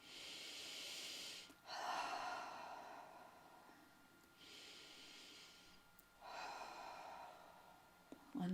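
Deep breathing during a yoga stretch, with long, airy inhales and exhales alternating in a slow, even rhythm, close and soft with no talk.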